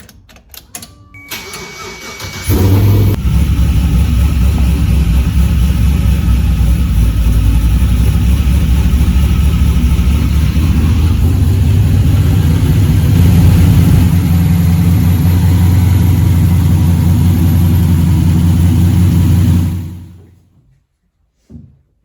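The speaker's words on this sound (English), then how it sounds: "We're going to start this thing up and put it in gear, and we'll see if the wheels spin freely." A V8-swapped MR2 fires up and runs in gear while raised on jack stands, with a loud, steady low engine drone that holds for about seventeen seconds before cutting off; no talk.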